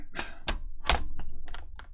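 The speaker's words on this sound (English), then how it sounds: "dropping the keyboard into the computer isn't helpful either" A computer keyboard dropped onto a PC case gives a cluster of close, hard plastic thunks and clattering taps, several sharp hits over two seconds with no talk.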